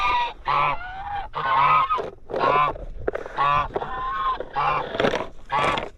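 Chickens and turkeys call near a farm pecan orchard, a run of loud honking, gobbling cries in repeated bursts about every half second, close by and with no talk over them.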